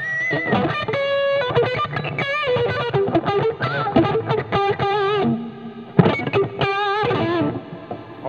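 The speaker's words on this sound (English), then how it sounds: "Still a good amount of distortion." Distorted electric guitar played on a JEM clone through a TH2 patch, a bluesy overdriven tone carrying phrases of notes and short bends at a steady close level with effects coloring.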